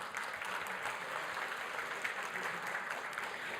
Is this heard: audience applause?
yes